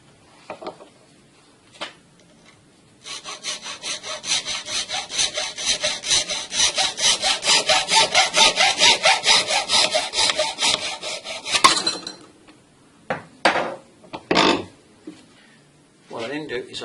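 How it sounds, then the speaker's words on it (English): A plastic bottle top is sawn off at the shoulder, giving a steady rasping back-and-forth stroke that runs loud and close for about nine seconds, followed by a few scattered scrapes and knocks. "So you cut it right off at that shoulder there"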